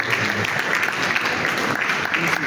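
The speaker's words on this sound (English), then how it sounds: "So if we just do another hand clap now" Steady applause from the assembled audience at a West African central bank governors' committee meeting, a continuous dense patter of hand clapping filling the whole short stretch, with faint talk beneath.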